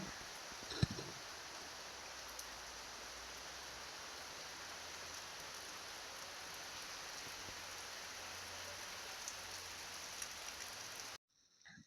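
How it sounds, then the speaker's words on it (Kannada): Steady wind-driven rain falls continuously, a dense even hiss of drops with a low rumble underneath, then it abruptly cuts to near silence at the end. "ಗಾಳಿ ಮಳೆ ಈಗ ಕೂಡ ಕಮ್ಮಿ ಇಲ್ಲ ನೋಡಿ"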